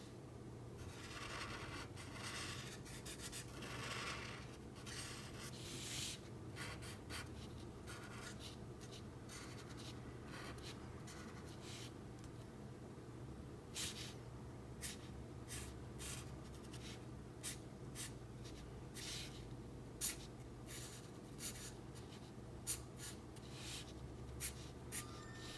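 A graphite pencil shades a drawing of a Fortnite pickaxe in dark grey, soft continuous scratching and rubbing strokes close to the paper, quiet and steady with occasional sharper flicks, no voices.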